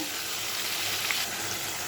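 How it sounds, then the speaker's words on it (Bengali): Potato pieces frying in hot oil in a kadai, giving a steady, even sizzle close by with no talking. "আলুগুলো লাল লাল করে ভাজবো"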